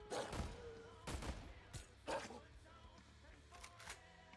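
Several sharp gunshots sound in the game Core during a wolf hunt, spaced irregularly over a quiet background, with faint voices around them.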